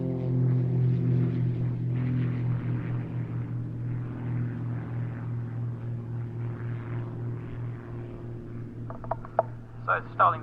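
Propeller aerobatic aircraft taking off at an airshow give a steady droning engine hum with a strong low tone, fading gradually, then a few sharp knocks and bumps at the end.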